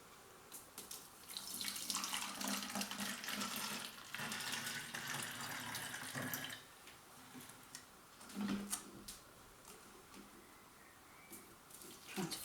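Cold tap water running into bottles for a yeast experiment, a faint steady splashing stream with small clicks and knocks as the bottles are handled; no talk.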